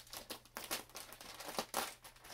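Plastic packaging of a yarn haul being cut open from the top with scissors, giving a run of crinkling, snipping and rustling bursts up close and fairly quiet.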